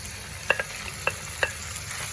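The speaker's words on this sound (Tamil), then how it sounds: "இந்த பச்சை வாடை போகிற வரைக்கும் வடிவாக கிளறி விடுங்க" Meat being stirred and fried with ginger garlic paste for rooster curry, close steady sizzling broken by three or four quick scraping clinks of a spoon against the pot.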